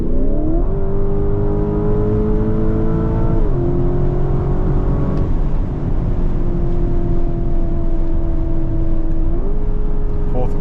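A 2026 Lamborghini Urus SE V8 hybrid pulls hard through fourth gear on the German autobahn, its engine note climbing steadily in pitch, easing back briefly, then rising again. The loud, close drone is continuous under heavy road and wind noise, with no talk.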